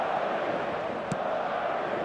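Stadium crowd in the eFootball video game: a steady, dense roar of many voices held at an even level throughout, with one brief sharp sound standing out near the middle.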